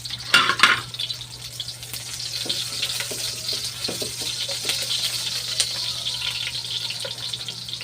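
White onion frying in oil, a continuous crackling sizzle with sharp spitting pops, a loud clatter of the pan at the start, and stirring scrapes, close and without talking.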